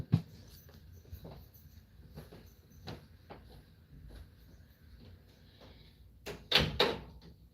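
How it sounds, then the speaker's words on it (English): A bedroom door being locked, with a faint series of soft knocks and clicks followed by a louder rattling latch-and-bolt burst near the end, heard alone in a quiet room. "I'm just gonna lock my door real quick"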